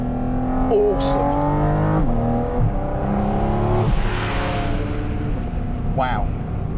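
Loud, close engine of a Porsche 718 Cayman GT4 RS under hard acceleration, rising in pitch through several upshifts, each marked by a sudden drop in the note before it climbs again.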